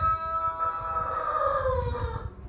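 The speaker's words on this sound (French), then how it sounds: "Là maintenant c'est un coq." A farm rooster crows once nearby, a drawn-out harmonic cock-a-doodle-doo lasting about two seconds over low background rumble.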